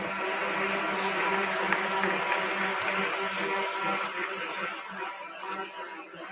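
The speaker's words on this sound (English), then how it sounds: "Please give a big round of applause." Ceremony audience applause at an IPO bell-ringing event, a steady moderate clapping wash with scattered chuckles and crowd murmur, fading slightly toward the end.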